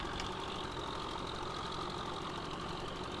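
In Farming Simulator 15, a modded tractor engine runs at a steady idle, a constant low, knocking drone with a slight vibration, faint and unbroken throughout with no talk over it.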